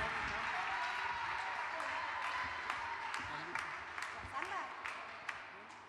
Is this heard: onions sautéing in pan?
no